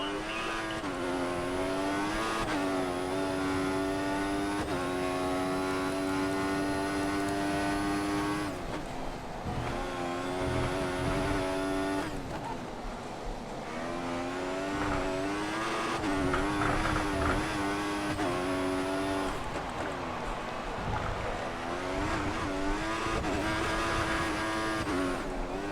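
Formula One car engine from the F1 2014 racing video game, a sustained high-pitched whine rising and dropping through gear changes as the car accelerates and brakes, loud and continuous with no talk.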